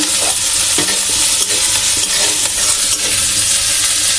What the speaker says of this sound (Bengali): পেঁয়াজটা নাড়াচাড়া করছি